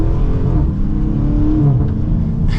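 A 2023 Chrysler 300C 6.4L engine revs up under quarter throttle, rising steadily in pitch, loud and close, with a rough droning rumble throughout.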